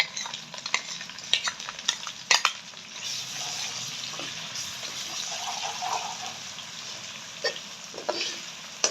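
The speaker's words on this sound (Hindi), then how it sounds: "अब इसमें 2 से 3 चम्मच हम ऐड करेंगे अदरक लहसुन का पेस्ट।" Ginger garlic paste frying in hot oil with golden-browned onions for a fish curry, a steady close sizzle broken by scattered clinks and scrapes of a stirring spoon against the pan.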